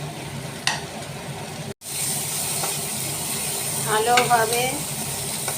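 Spiced loitta (Bombay duck) fish being stir-fried in a pan, a steady sizzle and hiss under scraping and stirring, with a brief dropout and a few louder spatula strokes near the end; a voice briefly speaks.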